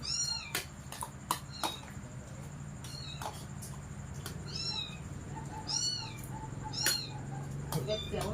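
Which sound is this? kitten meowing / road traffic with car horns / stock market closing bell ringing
kitten meowing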